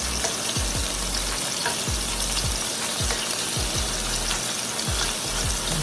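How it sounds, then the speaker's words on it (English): Fish frying in a hot pan as it is flipped: a steady, close sizzle of oil runs throughout, broken by several soft thumps and scrapes as the fillets are turned. "We're going to go ahead and flip our fish."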